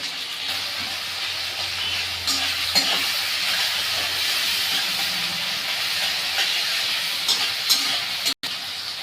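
Onion and tomato frying in a pan for kanta chorchori, a constant loud sizzling hiss with a few spoon strokes and scrapes mixed in, close and continuous apart from a brief dropout near the end.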